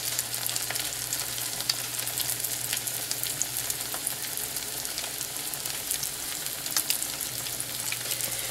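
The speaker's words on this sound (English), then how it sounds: "We're just going to put these right down in this hot oil." Salmon patties, hamburger-sized, sizzle and crackle steadily in hot oil in a frying pan, a close, even hiss with scattered pops throughout and no talking.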